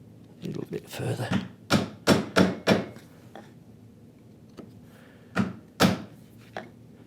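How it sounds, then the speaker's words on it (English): A hammer drives a chisel through wood while cutting dovetails for a small box: a cluster of sharp, close blows in quick succession, then a pause and a few more spaced strikes, with someone speaking at the start. "So listen for that hammer blow."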